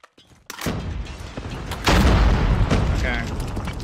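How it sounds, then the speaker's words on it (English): A predator missile strike explodes in the Call of Duty game, ranked match with the Maddox rifle: a sudden loud boom at the start, then a sustained, heavy rumbling blast with crackling debris that stays loud throughout. "Friendly predator missile inbound"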